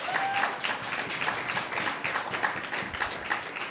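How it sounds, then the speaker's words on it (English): An audience at a talk event with Governor Joe Lombardo claps steadily throughout, a dense patter of many hands at moderate volume. "Is that most applause Jack Robb's ever got?"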